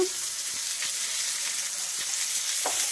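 Onions frying in a pan while chicken is cooked at home, a steady hissing sizzle with a few faint clicks of the spoon, close and continuous with no voices.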